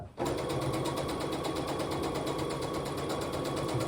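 A sewing machine stitches continuously through thick quilt seam intersections, a steady rapid mechanical whir with a fast needle rhythm, close and alone after a brief silent start.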